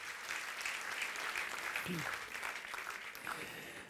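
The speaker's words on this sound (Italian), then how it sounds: "C'è un applauso" Audience at a live talk event in Verona breaks into sustained applause, a steady wash of clapping from a full room with a brief voice and a whistle-like tone near the end.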